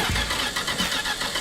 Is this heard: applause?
no